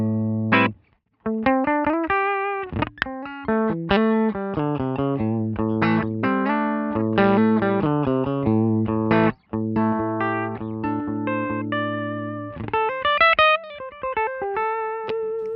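Electric guitar played through a Line 6 Helix amp model with the LA Studio Comp compressor on: clean, sustained notes and chords in a melodic line with a couple of brief gaps, no talking.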